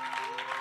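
Church congregation applauding in celebration, a soft continuous patter of many hands heard faintly at a distance, with a sustained tone underneath.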